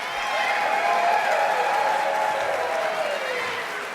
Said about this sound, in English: How about a round of applause for the accompanying trio?